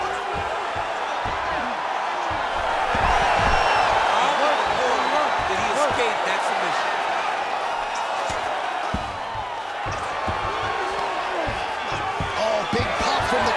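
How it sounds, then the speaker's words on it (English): Arena crowd in the UFC 5 video game roars loudly and continuously as fighters rise after a grappling exchange on the mat, a dense, steady wall of cheering with sharp thuds and impacts scattered through it. "big pop from the crowd as they get back to their feet after a pretty scintillating grappling battle there on the ground"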